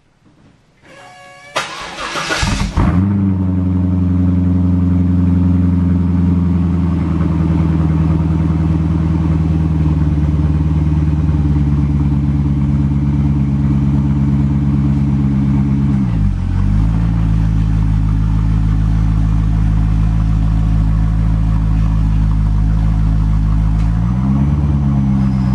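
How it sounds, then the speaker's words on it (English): A C5 Corvette's engine cranks briefly and fires into a loud, steady cold-start idle close by, with a couple of slight dips in revs before it settles again. "I'll give you a cold start up on Yvette"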